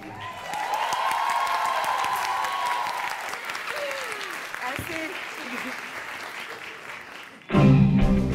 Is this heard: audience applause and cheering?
yes